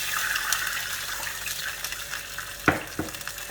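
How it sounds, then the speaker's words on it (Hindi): Water is poured into besan dhokla batter, a soft trickling wash followed by a couple of brief clinks near the end, with no talking. "So I'll add the water."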